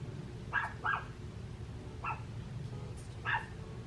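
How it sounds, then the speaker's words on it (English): Several short, sharp dog barks ring out at a distance, in a pair and then two single yaps with pauses between. "Sorry for my dog barking."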